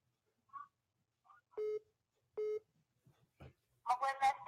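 Telephone line sounds on a radio call-in show, with sparse bleeps, two matching tonal beeps a second apart, then a burst of garbled line noise at the end, all faint and separated by silence.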